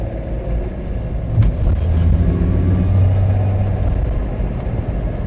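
Interior of a VR6-swapped VW Beetle with worn engine mounts, driven gently. A steady low engine rumble and road drone hold throughout and rise slightly in the middle, with no one speaking.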